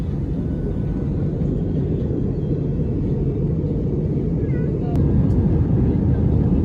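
Steady low roar of an Air Asia Airbus A320 cabin in flight from Manila to Boracay Caticlan, a constant dense engine and air rumble throughout, briefly louder toward the end, with faint background voices.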